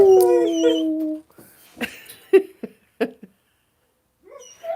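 Shadow the dog lets out a drawn-out wavering howl up close, then breaks into a few short yips and whimpering vocal sounds with pauses between them, with no one speaking.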